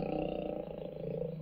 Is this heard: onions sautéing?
no